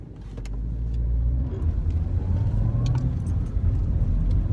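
Car engine in a racing video game, a loud sustained mid-pitched drone that builds quickly and then holds steady under acceleration, with no talking.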